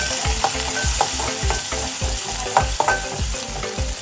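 Onions and mint stirred in hot oil in a pan for goat head curry: loud continuous sizzling broken by a regular rhythm of spatula scrapes and knocks, close up with no voices.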